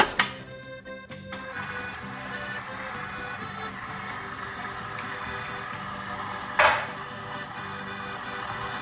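Six eggs being mixed in a bowl for Easter cuzzupi cookies: faint, steady stirring with a few sharp clinks of the utensil against the bowl.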